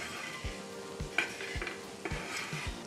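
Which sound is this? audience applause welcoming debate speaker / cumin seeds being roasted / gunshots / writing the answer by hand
cumin seeds being roasted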